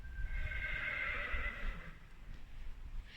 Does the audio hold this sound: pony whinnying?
yes